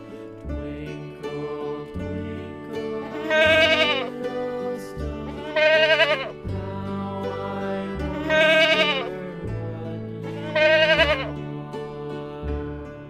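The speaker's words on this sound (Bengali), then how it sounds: "ছয়ে ছাগল ছানা লাফিয়ে চলে" Goat kid bleating in four loud, wavering calls at regular intervals, set over a steady musical backing in a toddlers' Bangla alphabet song.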